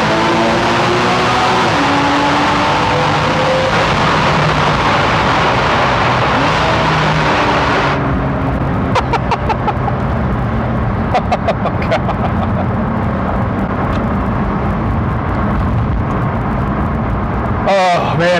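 Porsche 981 Boxster from 2014, engine accelerating hard through a tunnel in sport mode in second gear, a loud close rising wail echoing off the walls, then a gear change and a lower, steadier drone with brief pops.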